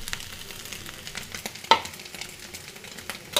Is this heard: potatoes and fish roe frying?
yes